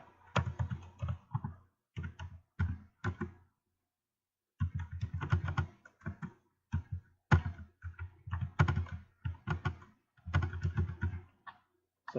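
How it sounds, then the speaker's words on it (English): Bursts of quick, close typing on a computer keyboard, rapid clicking keystrokes in short runs separated by pauses, including one longer silent gap partway through. "Now I'm going to do a little bit of typing."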